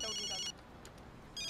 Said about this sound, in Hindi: ये अवंतिका का फोन है.